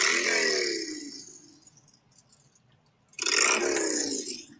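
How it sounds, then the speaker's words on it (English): A motorcycle engine revs in two loud bursts, each rising and then falling away, with a quiet gap between them. "With the sound of the revving engine"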